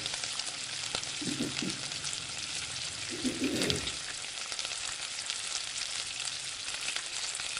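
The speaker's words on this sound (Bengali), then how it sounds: "তারপর এটা একটা একটা করে বেসনের মধ্যে ডুবিয়ে কচুগুলোকে আমি ভেজে নেব।" Taro pieces dipped in gram flour batter fry in oil over low heat, giving a steady close sizzle and crackle, with a couple of brief soft clinks as pieces go in.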